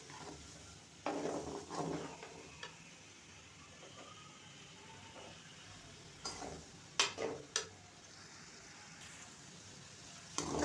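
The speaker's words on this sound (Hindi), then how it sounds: "इनका कलर पिंक होने तक इन्हें फ्राई करना है" Sliced onions fry over low to medium heat in a pan, a faint, soft sizzle beneath occasional louder clinks and scrapes of a utensil against the pan, with no talking.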